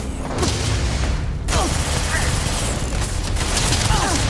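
Gunfire in the video game Starfield, dense rapid bursts and booms running continuously and close, with a brief gap near the start.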